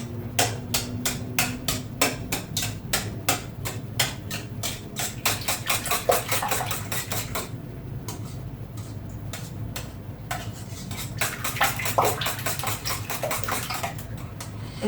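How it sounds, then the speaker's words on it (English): Eggs whisked in a bowl while making veggie, cheese and bacon egg bites, giving a fast, steady train of close, sharp clicks and taps that keeps up the whole time over a low background hum. "So I just scramble these eggs up."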